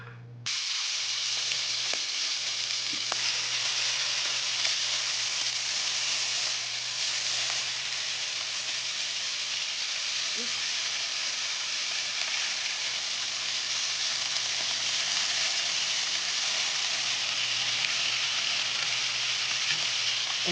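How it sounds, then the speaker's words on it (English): Shrimp fry in a hot pot, giving a steady, dense sizzle and hiss that holds evenly throughout with a low hum beneath, close and continuous, no talking. "Let's get the shrimp in the pot."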